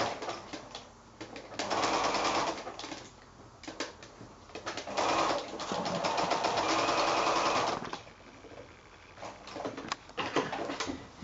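A domestic sewing machine stitches a curved seam through quilt fabric, running in several bursts of steady whirring separated by short pauses as the fabric is eased around the curves; close and clear with no talking.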